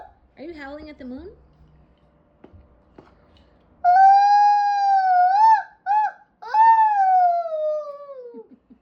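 A little girl imitates a wolf with her voice, letting out wavering, rising howls that come close and loud in short bursts separated by pauses at bedtime.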